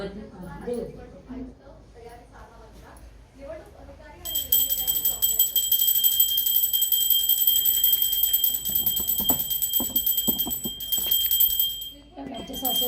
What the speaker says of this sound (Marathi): घंटी वाजवतात